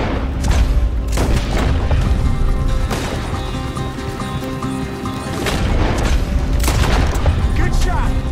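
Gunshots booming in a Red Dead Redemption 2 shootout near an alley at Clemens Point, several loud sharp reports at irregular intervals over dense battle noise and background music, with voices calling out between shots.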